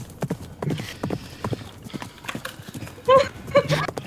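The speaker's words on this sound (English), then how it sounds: "the din of the horses and the carts" Horses' hooves clip-clop steadily alongside carts, mixed with a few whinny-like calls, all heard under continuous people talking, with a brief louder burst near the end.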